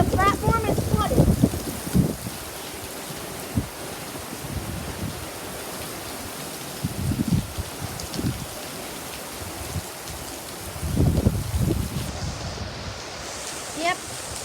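Heavy rain pours steadily at a flooded train platform in Florida, with wind gusts buffeting the microphone and a few louder bursts of noise. Voices speak briefly over the downpour.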